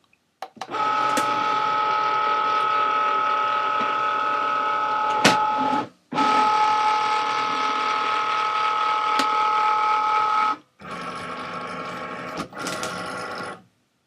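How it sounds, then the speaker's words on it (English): A Cricut Maker cutting machine loads its cutting mat, a close mechanical motor hum with feed whine running in three long stretches separated by brief pauses and sharp clicks. "we just load the mat"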